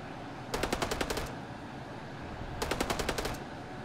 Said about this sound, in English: High explosive cannon.